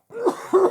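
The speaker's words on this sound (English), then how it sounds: "what I was going to say before I was so violently interrupted by my coughing spell" Two harsh coughs close to the microphone, one quick and one stronger, clearing the throat during a coughing fit.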